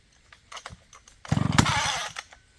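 An old chainsaw gives a few sputtering pulls and pops, then catches and revs in a loud, buzzing burst for under a second before dropping back, heard close up.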